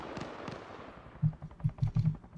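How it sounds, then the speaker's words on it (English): Mortar fire in the military video game Arma plays as a quick cluster of low, punchy thumps, about five or six in the last second. Earlier come a couple of softer distant bangs, and no voices are heard. "You want some mortar fire?"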